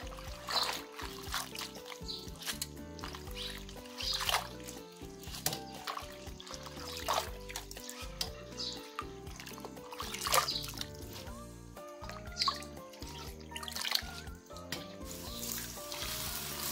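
Gardenia flowers are rinsed in a basin of water after a salt soak, with quiet irregular splashes, trickles and sloshing close by.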